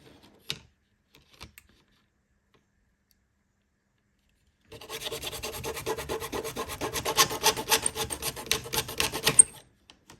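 A small hand saw cuts parts for a 1:18 scale model four-post car lift. After a quiet start with a couple of faint taps, close rapid back-and-forth rasping strokes run steadily for about five seconds.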